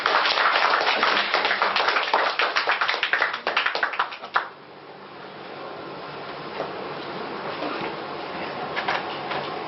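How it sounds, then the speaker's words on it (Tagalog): Dense, loud applause welcomes Engineer Jurgen Gonzales at a new distributors' orientation, a crowd of hands clapping steadily for about four seconds before breaking off abruptly into a quiet room hush. "Milyong-milyong palakpak para sa kanya"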